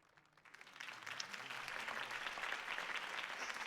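A crowd applauds after a campaign speech in Batman: The Telltale Series, starting with scattered claps and swelling quickly into steady, dense applause that is heard alone.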